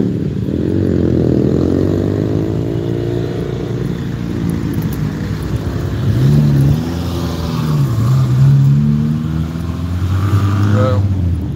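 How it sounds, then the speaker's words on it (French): Road traffic passing at midnight, with engines swelling and fading as vehicles go by close at hand, one after another, and a voice talking over the steady rumble. "là il y a pas mal de circulation, pourtant il est minuit"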